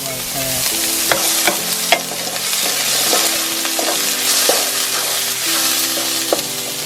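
Chopped ginger sizzles in a hot pan while a utensil stirs it, sharp scraping clicks recurring over a constant close frying hiss, no talking.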